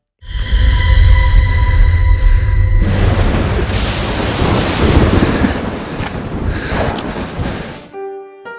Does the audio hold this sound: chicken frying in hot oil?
no